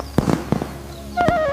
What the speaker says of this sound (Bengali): বাহ, কি দারুণ আতশবাজি।